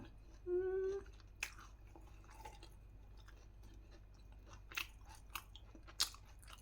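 Close, quiet crunching bites and chewing on a crispy fried pork snack, a few scattered crisp cracks over near silence, with a short hum of voice near the start.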